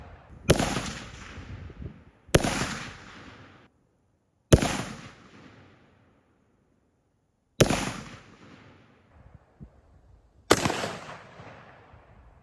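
Five loud gunshots are fired at pumpkins outdoors, each a sharp close crack whose echo trails off for a second or more, with irregular gaps between the shots and no talk.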